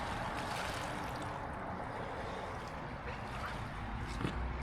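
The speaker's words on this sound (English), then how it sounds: "There's Lloyd taking the boat back." A Warrior 165 boat motors away across Loch Lomond, a steady low rumbling drone mixed with water wash and wind, continuous and moderately distant throughout.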